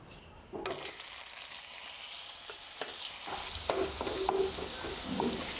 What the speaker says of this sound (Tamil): இப்போ இந்த தக்காளி இதெல்லாம் போட்டு இதை நல்லா வதக்கிக்கணுங்க.